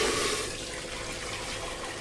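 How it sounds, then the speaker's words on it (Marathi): Water pours in a steady rush into a pressure cooker being readied for cooking chickpeas for Punjabi chole, close and continuous, easing slightly after the first moment. "तर याच्यामध्ये आपण पाणी टाकून घेऊया"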